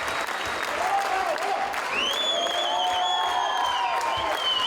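Enthusiastic theatre audience applauding actors after a classical Russian musical performance, a loud, sustained roar of clapping with cheering and whoops rising over it from about two seconds on, filling the whole stretch.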